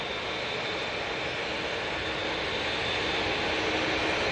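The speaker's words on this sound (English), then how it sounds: "I can see the Aer Lingus now, it's just passing heel green, so hopefully we can get this rotating" An Aer Lingus jet rolls for takeoff at Manchester Airport, a loud, broad, steady engine roar that edges slightly louder throughout.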